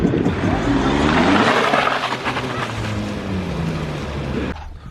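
A Mazda Miata with a newly cut-out exhaust revs loudly at close range, its engine note rising and falling with a raspy, throaty drone before cutting off abruptly.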